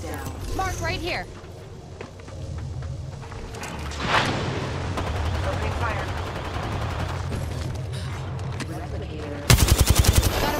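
Gunfire from the video game Apex Legends: bursts of rapid automatic shots and booming impacts layered over mechanical game effects, ending in a sharp, loud rattle of fire, with a player's voice talking in the mix.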